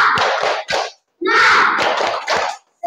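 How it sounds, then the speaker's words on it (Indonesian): Classroom children clapping a rhythmic spirit chant, in loud group bursts separated by short pauses, mixed with their voices. "Ya, semua tepuk semangat. Berdiri dulu. Tepuk semangat."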